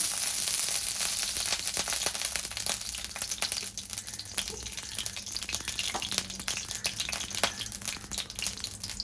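Ghee heating in a kadhai gives a steady crackling sizzle with scattered sharp pops, moderately loud and continuous, with no talk.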